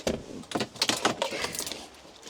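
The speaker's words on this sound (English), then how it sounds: "Let me just get the keys out, 1 second." Car keys jangle in a hand, a busy metallic clinking in quick irregular bursts close by, fading to softer rattles at the end.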